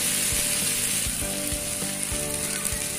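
Chickpea dosa batter sizzling and frying in sesame oil on a hot pan, a steady close crackle with soft scrape-like ticks and no voices.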